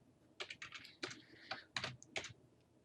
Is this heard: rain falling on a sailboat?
no